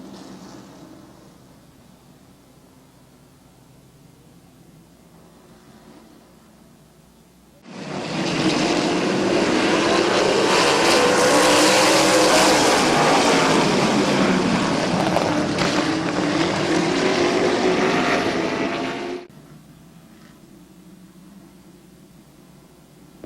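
Field of race cars at Midvale Speedway roaring back to full throttle on a restart with seven laps to go, a dense, loud engine wall that bursts in suddenly, holds for about twelve seconds, then drops back to a quieter background.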